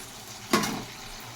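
Chicken dropped into sauce in a hot pan, a sudden loud hiss of frying and sizzling that quickly fades back into a low background simmer.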